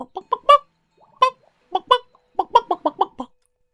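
A chicken in the puzzle platformer game Chicken Journey clucks in short, clear bursts, with a few spaced clucks followed by a quicker run of them, close and alone.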